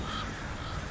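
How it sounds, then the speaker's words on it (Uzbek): Crows caw in the video game Death Stranding, heard as a quiet, brief call within a dense, noisy game soundscape. "qarg'alar"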